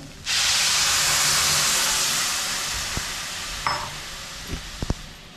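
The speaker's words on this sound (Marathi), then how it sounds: "आता आपण याच्यामध्ये खोबरं घालूया हे दूध ओतायचं" Milk poured into a pan of grated coconut for coconut barfi sends up a loud, steady sizzling hiss that slowly fades, followed by a few soft knocks of stirring near the end.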